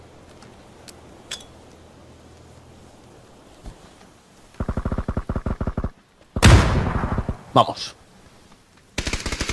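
Bursts of video game gunfire play out as rapid, loud automatic rattles in several bursts, with a booming shot between them and a voice speaking briefly.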